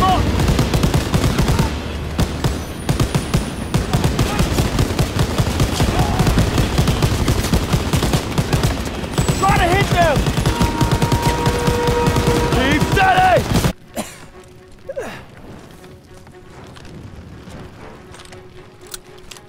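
Dense, loud enemy gunfire from a Call of Duty WWII battle, sustained automatic bursts for about fourteen seconds before dropping off to quieter scattered shots and ambience, with shouting voices over the fire.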